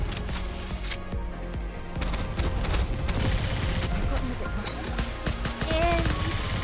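Rapid gunfire from the NIKKE shooter game rattles in dense, continuous bursts amid layered game effects and music, with a voice talking over part of it.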